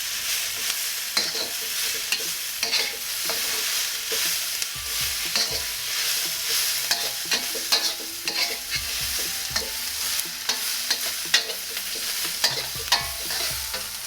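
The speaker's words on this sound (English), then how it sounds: "now I'm gonna chop in my beef, the dried chilies, and just mix it up a little bit" Beef and dried chilies stir-frying in a hot pan for a Mongolian beef dish, a steady dense sizzle broken by frequent scraping and tossing strokes of the spatula, close and continuous throughout with no talking.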